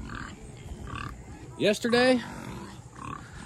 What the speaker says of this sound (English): So another update is these pigs.